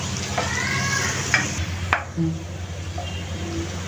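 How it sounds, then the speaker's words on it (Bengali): Onions frying in a pan for beef haleem give a close, lively sizzle, interrupted by several stirs and clatters of a spoon against the metal, the sizzling calming toward the end. "তো বন্ধুরা এতো আমি পেঁয়াজটাকে ভেজে নিলাম"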